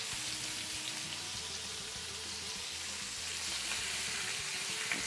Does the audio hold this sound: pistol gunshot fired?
no